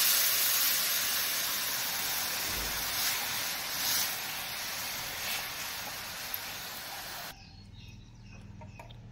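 Fresh coconut chutney mixture hits hot tempering of oil with red chilli pieces, giving a loud continuous sizzle and hiss for several seconds that cuts off abruptly, leaving a quiet room.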